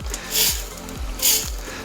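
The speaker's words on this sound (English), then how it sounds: "You can hear it sizzling." Close, steady sizzling hiss of shrimp scampi in a hot pan, swelling louder twice, with a faint repeating mechanical whir beneath.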